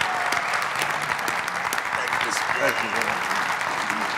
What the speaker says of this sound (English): Give these workers a great round of applause.